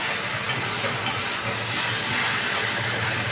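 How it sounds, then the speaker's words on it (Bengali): Bombay duck fish curry with taro and potatoes being sautéed in a pan, producing a constant loud hiss and sizzle with faint clicks of stirring. "এবার ভালো করে আমি একটু কষিয়ে নিই।"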